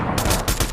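Gunfire in the video game Fortnite: several rapid bursts of shots crackle in quick succession at a steady, fairly loud level, with no voices.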